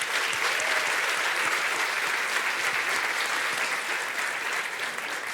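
A studio audience applauds a poet, Carlos Nejar, steady dense clapping filling the room at an even level throughout, fading slightly near the end.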